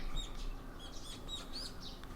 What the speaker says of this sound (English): The chirping of birds served as my alarm clock.